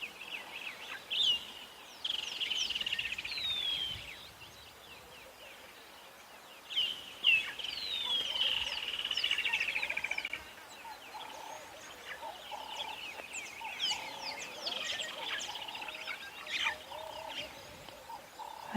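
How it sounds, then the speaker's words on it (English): Many wild birds call together at sunrise on an African safari, a dense chorus of overlapping chirps, whistles and trills at moderate distance, rising and falling steadily throughout with no talking. "Have a listen to all of the birds calling around us."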